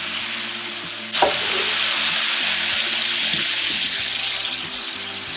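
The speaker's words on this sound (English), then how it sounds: "That's the sizzle you want to hear." Chicken drops into a pan of warmed butter and olive oil and bursts into a loud, steady sizzle that continues unbroken, with faint stirring and no talk over it.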